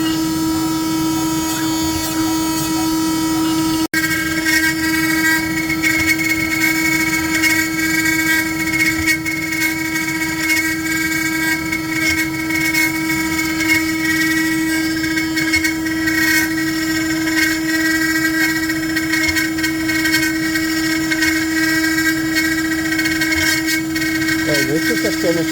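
A JCUT CNC 90120 router carves with a 2.4-degree tapered ball nose finishing bit with an eighth-inch tip, giving a loud, steady spindle whine with sustained tonal harmonics and faint cutting chatter across a long continuous run, with no talk.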